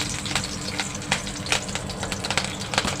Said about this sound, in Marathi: तेल गरम झाल्यानंतर गॅसची फ्लेम स्लो केलेली आहे आता मी कढीपत्ता घालत आहे